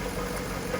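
A Jaguar XK8 engine idles with a fault that makes a dragging, pipe-like noise heard only at idle, giving a steady close-up rumble with a faint knocking texture, no voices.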